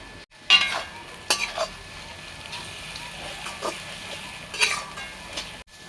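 Onions cooked light red with salt, turmeric, chilli powder and ginger-garlic paste sizzle softly in a pan for Bengali egg korma, with a few sharp scraping stirs standing out over the low, steady fry.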